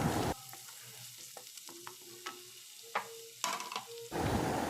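Masala for pomfret malai curry frying in a pan, a soft steady sizzle under scattered spoon scrapes and clinks, with louder bursts of sizzling at the start and end.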